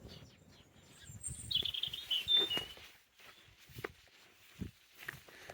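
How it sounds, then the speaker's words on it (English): A small bird sings outside a stone rubble church with a slate roof, St Nonna's in Bradstone, giving a few faint high chirping phrases over quiet footsteps and rustling. "Thank you, bird, for your beautiful song."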